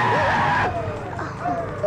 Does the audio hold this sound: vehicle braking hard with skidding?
yes